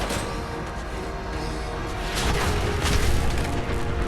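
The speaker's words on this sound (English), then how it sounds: "You took off its limbs, so it exploded." A creature blowing up in Fallout 4 after its limbs are shot off, heard as a rumbling boom that swells and grows louder toward the end, set against continuous low game ambience.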